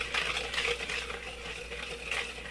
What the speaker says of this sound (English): we put our 2/3 cup of oil and our 2/3 cup of sugar, and we stir that up good